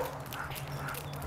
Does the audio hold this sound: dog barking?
yes